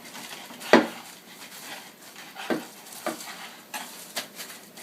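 Knife slicing through warm black sesame gangjeong brittle on a board, a sharp crunching cut followed by several softer presses and taps at irregular intervals, close and fairly quiet.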